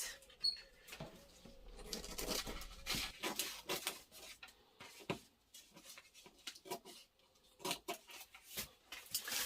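Scissors trimming fabric along a T-shirt armhole seam allowance, producing a rapid, uneven series of crisp close snips and rustles that continue throughout.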